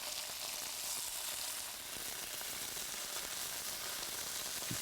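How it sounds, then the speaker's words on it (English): Pork medallions fry in a little oil in a non-stick pan, giving a steady, bright sizzle that hisses evenly throughout, close and continuous with no voices. "fried in a little oil, preferably in a non-stick pan"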